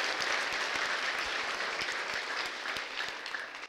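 A church congregation claps in a dense, sustained round of applause, many hands close and loud, with a faint voice barely present beneath the clapping.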